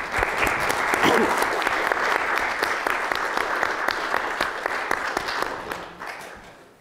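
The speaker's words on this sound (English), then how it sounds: "Please stand up for a big round of applause." Steady, dense applause from a large audience at an intellectual property event fills the room for several seconds, holding at an even level before tapering off at the end.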